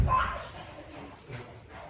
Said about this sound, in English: I got 2 dogs fighting